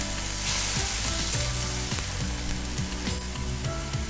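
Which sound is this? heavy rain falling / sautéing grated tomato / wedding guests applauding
sautéing grated tomato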